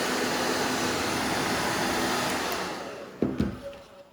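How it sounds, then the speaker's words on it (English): A hair blow dryer roars steadily at close range while heating rubber grip sleeves on a Glock pistol, then cuts off near the end, leaving a few clunks of handling. "That blow dryer gets hot."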